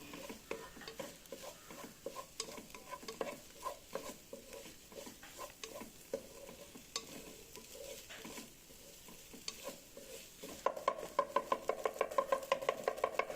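Egg being scrambled in a frying pan for restaurant-style fried rice: steady stirring scrapes and a soft sizzle run throughout, with sharper utensil taps on the pan growing louder near the end.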